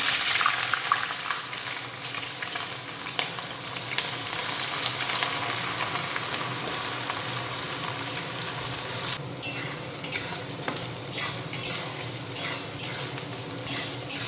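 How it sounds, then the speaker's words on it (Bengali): Chopped onions frying in hot oil in a home kitchen, a steady loud sizzle throughout, then from around nine seconds a series of sharp stirring scrapes and clinks of a utensil against the pan. "পেঁয়াজটা এখন ভাজা হবে"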